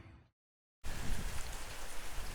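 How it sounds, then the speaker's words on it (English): Heavy rain pours down outdoors, a dense steady hiss that begins abruptly after a moment of silence and continues loud and unbroken. "it's pouring down raining out here, man, so I'm just sitting outside just looking at the water come down"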